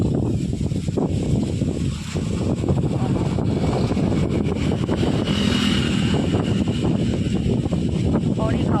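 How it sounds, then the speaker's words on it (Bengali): Strong wind beside a salt lake, buffeting the microphone with loud, steady rumbling gusts throughout. "অনেক হাওয়া দিচ্ছে এখন এখানটা"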